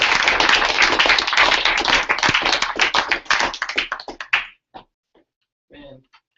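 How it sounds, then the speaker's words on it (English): A crowd at a launch event clapping for a speaker coming up, thick and loud at first, then thinning into scattered individual claps before fading out, with a brief voice near the end. "give him a round of applause because he's amazing"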